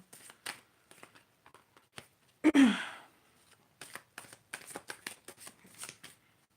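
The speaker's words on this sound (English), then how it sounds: "So I'm just shuffling right now." Playing cards shuffled by hand during a yes/no reading, with bursts of riffling and soft shuffling that come and go, and one louder riffle near the middle, no talk.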